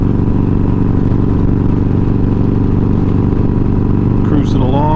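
A motorcycle cruises north along FM 372, a rural North Texas highway, with a loud, steady engine drone and wind rush throughout and a brief higher whine near the end.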